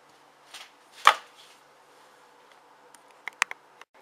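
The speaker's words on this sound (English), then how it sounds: "Snip the top off the berry and slice it in pieces." Strawberries having their tops snipped and being sliced into pieces, heard as a few sparse, crisp knife cuts on a board, one louder cut near the start and a quick cluster of light taps toward the end.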